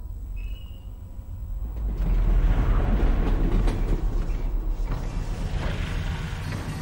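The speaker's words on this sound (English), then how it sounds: "Did the train stop? It stopped, didn't it?" Train ride in the video game Half-Life: Alyx, a loud rumbling of rail cars with creaks and clattering mechanisms that swells and keeps rolling throughout.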